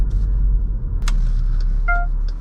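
A Jeep Grand Cherokee EcoDiesel WK2 High Altitude in sand mode rumbles loud and close with a heavy low drone, a brief sharp knock partway through, and a faint tonal whine near the end.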